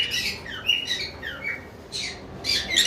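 A pineapple double red factor pet bird, one of the lovebirds or cockatiels kept for sale, gives a string of sharp, close squawks and chirps in short repeated bursts with brief gaps between them.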